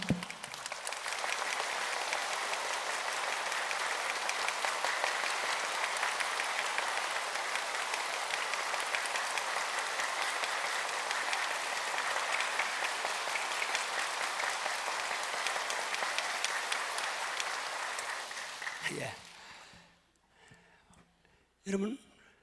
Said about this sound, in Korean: 장대 박수 준비하시고